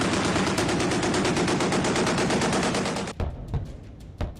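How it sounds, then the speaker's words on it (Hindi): Machine gun fire from the Chinese Type 055 Nanjing destroyer rattles out as one loud, rapid, unbroken burst for about three seconds, then stops, leaving a few sharp lighter bangs and echoes. "दनादन निकलती गोलियां,"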